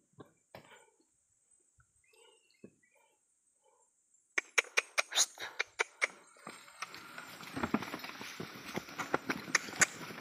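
A carabao, or water buffalo, walks with clopping hooves. After a few scattered faint knocks, a run of close, distinct hoof strikes begins midway and continues over rising background noise.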